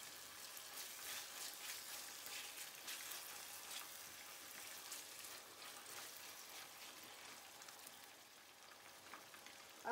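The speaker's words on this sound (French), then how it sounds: "Il faut frire 2 minutes, 2 à 3 minutes" Ingredients for a fish sauce fry in a pan, a faint, steady crackling sizzle with fine popping throughout, no voices.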